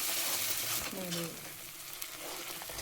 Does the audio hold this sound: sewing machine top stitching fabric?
no